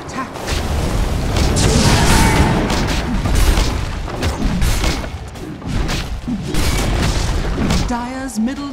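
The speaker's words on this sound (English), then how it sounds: "Dire's middle tower has fallen." Dire's middle tower collapsing in the video game Dota 2, a sustained run of heavy booms, thuds and crashing impacts under continuous battle effects, with an announcer voice speaking over the destruction.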